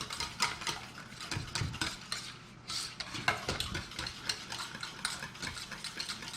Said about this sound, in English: So we're gonna start by whisking it